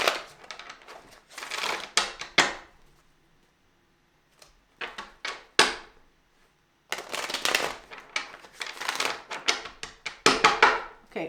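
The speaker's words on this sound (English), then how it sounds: "we're going to shuffle it a couple times first." A deck of tarot cards is shuffled in two clusters of riffling and tapping bursts, close and moderately loud, separated by a quieter pause with a few isolated card taps.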